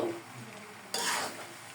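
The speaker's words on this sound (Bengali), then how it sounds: "আমি চাউমিনটাকে ভেজে নিব" Chow mein noodles frying in a pan over high heat: a soft sizzle that suddenly swells into a loud, bright hiss midway, with stirring scrapes, and no voices.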